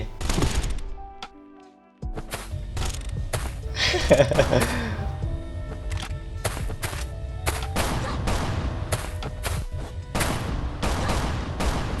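Rapid bursts of gunfire in the survival video game Last Island of Survival, sharp loud shots in quick irregular volleys after a brief quiet gap, with excited talk from a player underneath.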